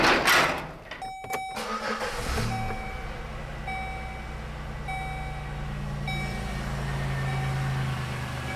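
A Chevy Malibu engine cranks and catches after a few seconds, then settles into a steady idle with a faint whine, no voices.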